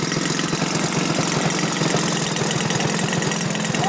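A 40% scale YAK-54 model airplane engine idles steadily up close, a continuous buzzing drone with a fine rapid pulse and no talking.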